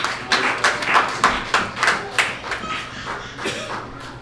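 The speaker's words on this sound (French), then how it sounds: "Acclamons pour la parole de Dieu." A church congregation claps in a loose rhythm of roughly a dozen sharp hand claps over about three seconds, then the clapping thins and fades out.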